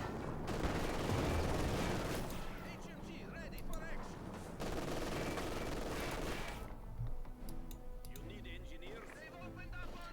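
Gunfire skirmish in Company of Heroes 2, Wehrmacht against Soviet forces, with dense bursts of rifle and machine-gun fire and explosions under continuous commentary.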